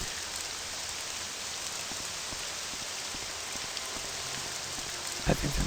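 Steady rainfall in the video game Morrowind, a constant dense patter of drops hissing evenly throughout, with a brief louder knock near the end.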